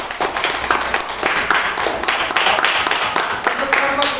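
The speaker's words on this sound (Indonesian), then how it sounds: "Berikan aplaus untuk kelompok 2" A classroom group claps in applause for a presenting student group, dense overlapping hand claps that are loud and continuous, with some voices mixed in.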